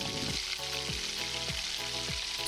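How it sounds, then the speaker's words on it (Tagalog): Chopped ginger sautéing in hot cooking oil for ginataang tilapia, a steady close sizzle crackling throughout with a few soft stirring sweeps and no voices. "Uunahin po natin isote ang ating luya. Make sure na mainit na yung luya bago natin ito isote."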